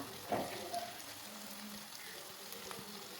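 Onions frying in a pan for a North Karnataka leftover-roti uppittu, a faint, steady sizzle and hiss with a brief clink of a utensil near the start.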